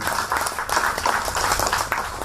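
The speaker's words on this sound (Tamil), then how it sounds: "ஆக இந்த 3 பேருக்காக ஒரு பலத்த கரகோஷங்கள் கொடுத்துடலாமே" An audience at a Tamil pattimandram debate held at the Chennai Port Authority claps in a dense, continuous round of applause, fairly loud and uninterrupted by speech.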